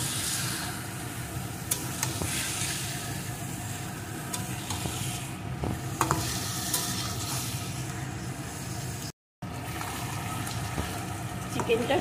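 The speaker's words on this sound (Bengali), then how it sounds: "এখন চিকেনটা দিয়েও বেশ কিছুক্ষণ ধরে সুন্দর করে কষিয়ে নেব।" Chicken sautéing in a pan, a steady sizzle with scraping stir strokes running throughout, briefly cut off near the end before resuming.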